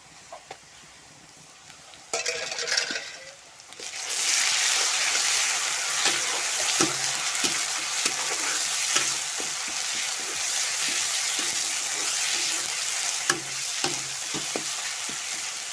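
Ginger, garlic and green chilli paste frying with browned onions for a simple chicken curry, a sudden loud sizzle that settles into a steady hiss with periodic spatula scrapes and stirs, close by.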